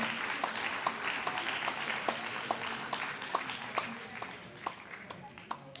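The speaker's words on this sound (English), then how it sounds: "Keep the applause going for them, man." Audience applause for award winners at a public sector debate competition grand finale, a steady wash of clapping with a few sharp individual claps standing out, moderately distant and fading slightly toward the end.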